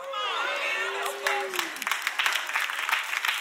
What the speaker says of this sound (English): That was the most pitiful clap I've ever heard at Elevation Church